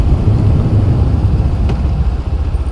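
A geared motorcycle rides out onto the road in a steady, close low-frequency engine drone that holds throughout, with no speech.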